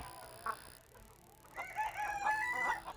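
A Showgirl bantam chicken, splash-colored and all white, crows and clucks nearby in a fancy bantam farm setting, with short calls building to a fuller crow.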